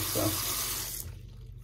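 A bathroom sink faucet runs with a steady hiss of water for about a second and then shuts off. A voice briefly speaks a single word.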